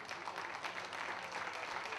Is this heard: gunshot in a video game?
no